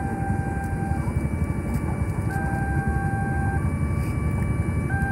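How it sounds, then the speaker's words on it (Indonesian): A train arriving beside the Tenjo flyover construction site makes a steady, moderately loud low rumble, with thin whining tones that start and stop on top of it. "kereta masuk lagi aja ya"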